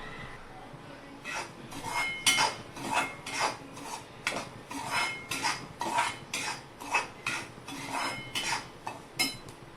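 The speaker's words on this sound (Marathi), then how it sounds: "मंद गॅसवर भाजून घ्यायचा आहे एक ते दीड वाटी रवा मी घेतलाय" Semolina being dry-roasted in a pan over low heat for a sweet offering, giving repeated scraping and stirring strokes of a utensil against the pan in an irregular rhythm, close and moderately loud, with no talk.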